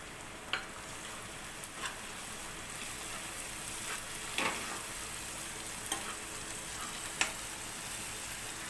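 Chopped green chillies fry in oil in a pan for an egg fry, a steady soft sizzle punctuated by a few faint ticks and stirring clicks, quiet, with no talking.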